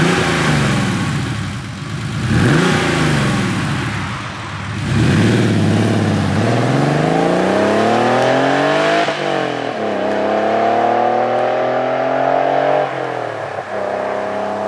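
A Porsche 964 Carrera fitted with a Fabspeed dual-outlet Maxflo muffler accelerates hard through several gears, its engine note climbing in loud repeated sweeps that dip briefly at each shift.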